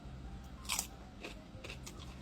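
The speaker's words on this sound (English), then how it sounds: "I'm having cucumber with tahini. Just needed something crunchy" Crunchy cucumber dipped in tahini is bitten and chewed, a few crisp crunches close to the mouth at irregular intervals over a low steady background hum, no talking.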